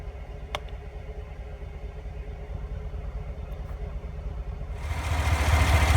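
Truck engine idling under the vehicle, a steady low rumble that holds alone without talk and swells louder toward the end.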